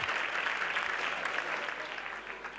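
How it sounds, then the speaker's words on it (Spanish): Loud applause from an audience in the Teatro Juan Luis Galeardo during a San Roque carnival proclamation, welcoming a woman onto the stage; a thick wash of clapping that stays full, then eases slightly toward the end. "Fuerte aplauso para ella que sube aquí con nosotros al escenario del Teatro Juan Luis Galeardo."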